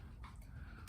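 Dog whimpering outdoors, a couple of faint, brief high whines over a low, quiet background.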